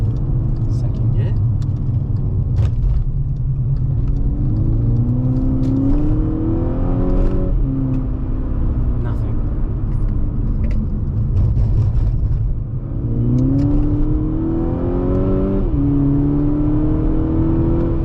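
Inside a 2012 VW GTI MK6, the engine pulls hard in second gear, rising in pitch in a couple of surges over a constant loud rumble of road and cabin noise.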